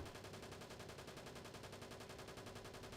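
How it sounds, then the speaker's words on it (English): Sustained automatic machine gun fire from an American Sherman tank in the WW2 Online combat game, a dense continuous rattle of rapid shots at steady loudness throughout. "That's friendly tank fire. It doesn't sound like a MG34 or anything, so I think it's an American in a Sherman shooting."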